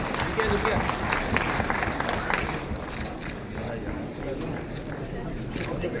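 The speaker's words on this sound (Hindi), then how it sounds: "जोरदार तालियां एक बार हो जाएं सभी के लिए" An audience at an Indian agricultural research council foundation day ceremony applauding, a continuous rustle of many hands clapping at moderate distance, with voices carrying underneath.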